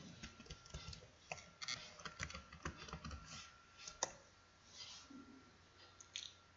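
Someone types a password on a computer keyboard to log into Ubuntu, producing quiet, irregular clicks and taps, several bursts of keystrokes over about six seconds.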